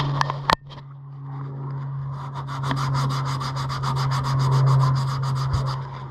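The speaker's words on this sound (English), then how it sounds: "We're just gonna be focusing on trying to get rid of loose rust" Loose rust being rubbed and scraped off the metal of a Nissan Patrol, starting with a few sharp knocks, then fast rhythmic abrasive strokes over a steady background hum.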